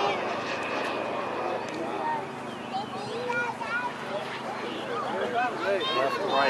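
Radio-controlled model airplane making a downwind show pass at an aeromodelers' fly-in, a sustained engine drone rising and falling as it sweeps by, under a continuous commentator's voice and crowd ambience.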